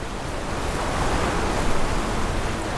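Ocean surf rolling in at sunset, a continuous broad wash of breaking waves with a swelling surge midway, fairly loud and unaccompanied by voices.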